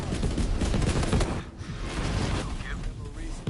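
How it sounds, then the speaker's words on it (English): Fireworks in Borderlands 3 (Bounty of Blood) crackle and pop in dense, rapid bursts that run continuously, with a voice partly heard beneath them. "Those devil riders are celebrating the sheriff's death with damn fireworks."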